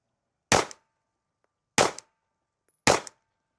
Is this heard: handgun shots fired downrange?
yes